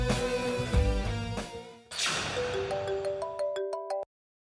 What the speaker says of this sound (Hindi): मेरा फोन नहीं उठा रही है?